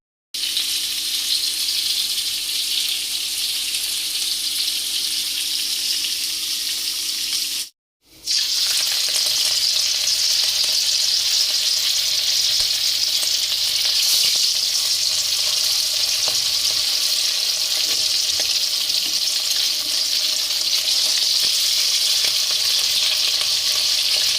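Loud, steady sizzling of snake gourd frying in hot oil fills the clip, broken by a brief silence before the crackling hiss resumes.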